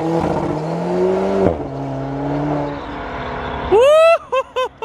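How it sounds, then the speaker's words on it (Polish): An Alfa Romeo 4C Spider, rear-wheel drive and about 1000 kg, makes a launch start. Its engine holds a steady, loud tone, then climbs in sharp rising revs with rapid shifts at the end. "pokażę Wam, jakie jest przyspieszenie z launcha i jaki jest dźwięk przede wszystkim"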